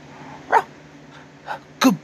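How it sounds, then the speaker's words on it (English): A puppy gives three short, close yips and barks, spaced apart over a quiet background, with no talking. "Good boy, Puppy Clifford"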